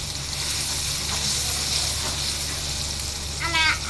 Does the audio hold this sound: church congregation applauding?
no